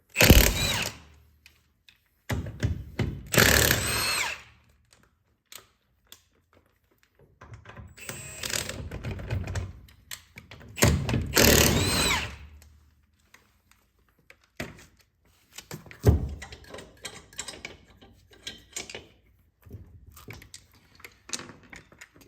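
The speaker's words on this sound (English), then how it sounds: "This is just an impact with 19 socket." A pneumatic impact wrench with a 19 mm socket removing a CV axle nut during a CV boot replacement, firing in several separate loud rattling bursts with short pauses between them, close by and without talk.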